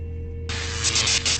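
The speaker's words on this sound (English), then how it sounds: "we just made lightning go off" Lightning crackles in the video game State of Mind, a sudden loud broadband hiss and crackle that bursts in about a third of the way through and holds steady over a low electrical hum, with no talking.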